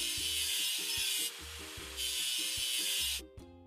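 In a children's truck-building video game, rust is scrubbed off a machine: rhythmic synthetic scraping strokes, loud and repeated over a looping tonal background, ending abruptly.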